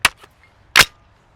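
Two sharp, loud 5.56 rifle shots fired with a muzzle brake and no suppressor, outdoors on a range, the second blast stronger, separated by a brief quiet gap.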